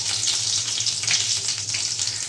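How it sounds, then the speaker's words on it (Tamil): Garlic frying in oil with mustard seeds, a loud, close, continuous hissing sizzle with no talk. "பூண்டு நல்லா செவக்க வதக்கணும்"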